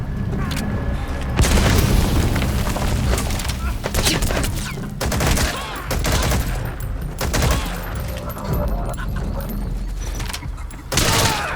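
Unsuppressed gunfire in Metal Gear Solid 5 booms in loud, dense bursts and rapid volleys, with heavy low blasts repeating through a noisy combat scene.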